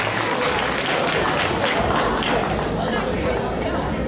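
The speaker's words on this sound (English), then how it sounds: "Let's give Nancy a wonderful round of applause" Audience applause at a charity gala dinner held by an Australian women's association at its annual meeting: loud, continuous clapping fills the room from start to finish, with crowd murmur beneath it.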